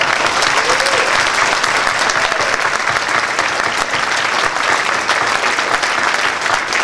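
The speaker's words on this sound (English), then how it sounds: "So give him another round of applause." Sustained, dense audience applause fills a convention panel room, steady and loud throughout with no break.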